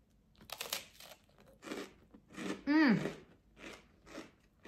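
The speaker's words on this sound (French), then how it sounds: "Je sais pas si vous entendez comment ça croustille." Biting into buttered toast gives several crisp crunches spaced apart, close and fairly quiet, with brief speech in between.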